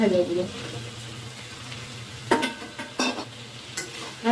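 Ridge gourd, potato and onion stirred in a frying pan: a soft sizzle under several sharp scraping strokes of a utensil against the pan, spaced a second or so apart.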